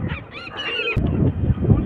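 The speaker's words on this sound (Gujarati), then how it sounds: "તો તમે જોઈ શકો છો આ પક્ષી પાણીમાં જે તરી રહ્યા છે." Waterbirds on the water at Triveni Sangam, Somnath, give several close, loud honking calls in the first second, followed by a continuous rumble of outdoor background noise.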